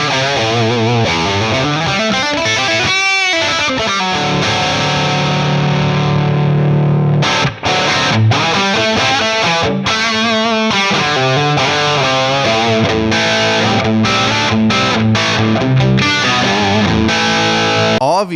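Electric guitar played through a MESA/Boogie Mark IIc plus Mark IV amp simulation on an extreme setting, loud and heavily distorted, with chugging riffs and sustained chords throughout.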